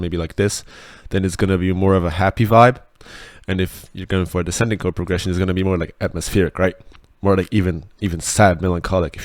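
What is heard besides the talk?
No distinct noise like a dog, phone or traffic.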